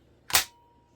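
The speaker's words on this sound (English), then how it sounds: "go ahead and lock the chain brake" Chain brake snapping into the locked position on a Husqvarna chainsaw, a single sharp close mechanical clack that decays quickly into quiet.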